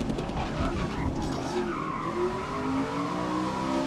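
Pickup trucks race in GRID 2019, tires skidding and squealing loudly and continuously over a steady engine roar, with rising whines from the motors as they slide.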